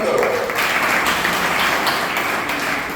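Steady, loud applause from a seated audience cheering quiz winners at an institute's Std 10 quiz challenge, dense continuous clapping with voices mixed in throughout.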